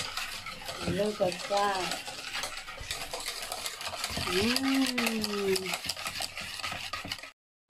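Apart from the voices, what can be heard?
mixing homemade custard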